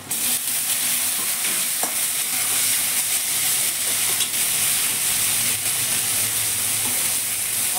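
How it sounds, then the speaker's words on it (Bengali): Eggplant pieces added to already browned potatoes sizzle hard in a hot pan for a fish curry, with a loud continuous fry hiss and occasional clinks and scrapes of a stirring spoon. No voices are heard. "এখন বেগুনগুলো দিয়ে দেবো।"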